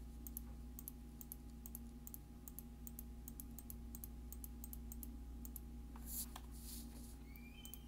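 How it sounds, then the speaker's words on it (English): A computer mouse clicks repeatedly while closed curves are traced in Rhinoceros 3D, crisp close-up clicks in a quick irregular rhythm over a quiet room hum, with a brief rustle near the end. "I'm just going to start clicking and making some closed curves"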